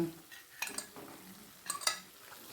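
Chicken dropped into reduced butter and white oil over medium-high heat, stirred with a utensil: two clattering bursts of stirring and sizzle over a low, steady frying hiss, close and fairly quiet.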